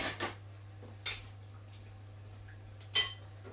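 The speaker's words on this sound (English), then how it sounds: "I'm going to give that a little stir" A spoon stirs melted dark chocolate and unsalted butter in a bowl set over a bain-marie, giving three brief, faint clinks against the bowl spaced across a quiet, steady background hum.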